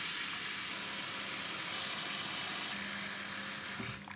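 Tap water runs steadily into a cooking pot, a close, continuous rushing hiss whose tone shifts slightly as the pot fills, ending with a brief clunk.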